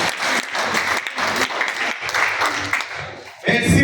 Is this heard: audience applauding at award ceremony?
yes